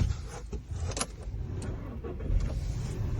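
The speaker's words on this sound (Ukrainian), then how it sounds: "Все, машинка завелася добре" A 2009 Volkswagen Caddy, its key newly programmed, starts and settles into a steady low engine rumble close by, with keys jangling near the start and no talking.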